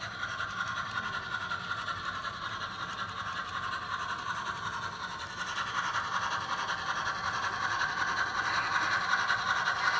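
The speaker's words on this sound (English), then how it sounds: "Running my little motor, as I always do, is great little locomotive." A small model railroad locomotive runs on a club layout, its motor giving a steady whirring hum with faint rail clatter that grows slightly louder toward the end, no talking.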